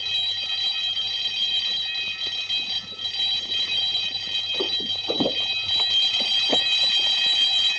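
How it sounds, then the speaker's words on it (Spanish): Alarm bell ringing continuously in a 1952 World War II film scene, a steady shrill metallic ring heard throughout, with brief background sounds and rustles beneath it. "Cierre la alarma"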